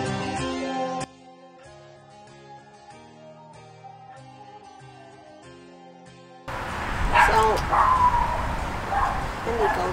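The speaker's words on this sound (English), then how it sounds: "Barking again. Is that your puppy?" A small dog yaps and barks sharply near the end, loud and close, after a stretch of music with a lone bark at the start.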